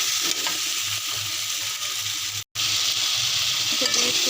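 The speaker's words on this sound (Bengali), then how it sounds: "জাস্ট এর সাথেই ভেজে নেব।" Onion, garlic paste and ginger paste fry in a pan with a steady, broad sizzle that runs close and loud throughout, broken by one brief dropout midway, with no one talking.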